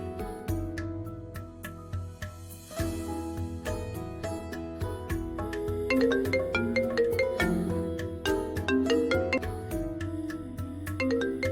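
A phone rings for an incoming call with a melodic electronic ringtone, its repeating chimed notes steady and moderately quiet throughout, with no one talking.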